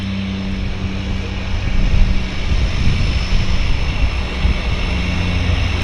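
Cessna Caravan floatplane at Vancouver Harbour, a steady propeller-engine drone with a low hum, holding fairly loud and constant throughout, with a slight swell midway and no voices.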